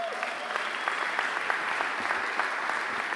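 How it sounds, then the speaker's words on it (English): Graduates at a university commencement ceremony clap together, a brisk, even round of applause from a large crowd, moderately distant and without speech. "Give yourselves a round of applause."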